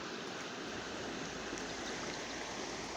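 River water rushing over rocks, a steady, soft broadband roar of flowing water with no voices, even and unbroken throughout.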